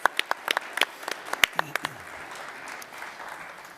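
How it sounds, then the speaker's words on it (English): Audience applause at a travel technology startup pitch event, beginning with sharp individual claps that quickly merge into a sustained moderate round, with a brief voice partway through. "A big applause, please."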